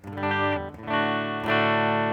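Electric guitar played through a Line 6 Pod Express with boost and distortion gives three sustained, gritty overdriven chords, each ringing out before the next.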